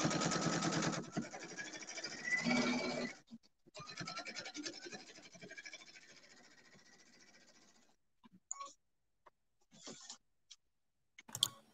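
A sewing machine stitching chenille runs in steady buzzing stretches of several seconds, then falls to a few short isolated bursts and clicks with quiet gaps.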